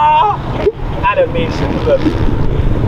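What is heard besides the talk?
wind blowing outdoors at a race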